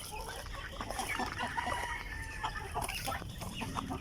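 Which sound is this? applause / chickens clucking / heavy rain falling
chickens clucking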